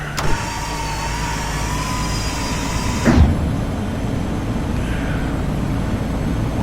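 In Flight Simulator X flying the Real Air Duke Turbine, the landing gear lowers with a loud whirring electric motor hum over steady cabin engine noise, ending in a clunk near the three-second mark as it locks down.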